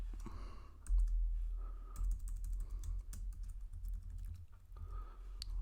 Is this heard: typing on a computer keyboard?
yes